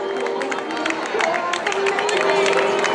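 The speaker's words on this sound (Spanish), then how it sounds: "un poquillo de aplauso" Crowd at a popular footrace in Meaño applauds and cheers as runners reach the finish line, a steady dense wash of clapping and voices under an announcer talking throughout.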